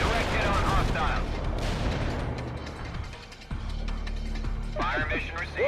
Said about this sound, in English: Whoa! That's some explosion.